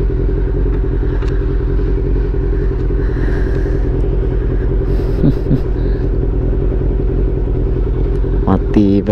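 A Honda CB400 motorcycle engine runs at a steady, loud idle-like rumble with a constant low drone, plus a few brief clatters and light background noise.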